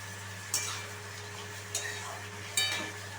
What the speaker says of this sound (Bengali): এবারে আমি ভেজে রাখা সয়াবিনগুলো অ্যাড করে দিচ্ছি